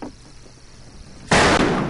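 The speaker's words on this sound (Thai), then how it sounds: "ถังยิงแล้วจะระเบิด" A barrel shot and exploding in the western shooter game Fistful of Frags: a sudden loud burst after a quiet stretch of faint game ambience, with the blast noise ringing on to the end.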